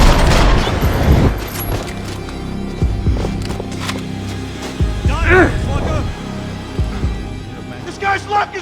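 Suppressing gunfire and explosive booms in the video game Max Payne 3, heavy bursts rolling through the first seconds then scattered thuds and shots under ongoing voices and game noise.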